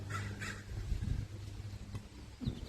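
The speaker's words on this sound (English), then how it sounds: "crows want more chips" Crows caw a few times at a distance over steady low background rumble, the calls faint and spaced out.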